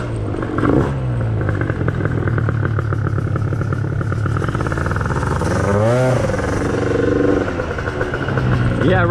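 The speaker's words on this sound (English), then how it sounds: "Now the idle's kind of high because I've leaned it out a little bit." Gilera Runner 180cc scooter engine fitted with a smart carb, leaned out and idling high, runs close and steady with a few throttle swells and a rising rev near the middle.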